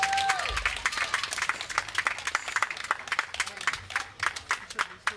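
An audience at an outdoor song contest semifinal in Zaeltsovsky Park, Novosibirsk, claps in scattered, irregular bursts that rise and fall, with a voice briefly heard at the start.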